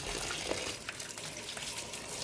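Water pours in a steady gushing stream onto a batch of corn, guinea corn and millet grains set to soak, close and continuous with no talking.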